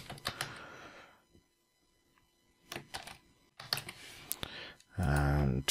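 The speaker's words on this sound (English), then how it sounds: "we'll just type in a message here" Someone types a short message on a computer keyboard, bursts of close clicking keystrokes separated by pauses, with a voice speaking briefly at the end.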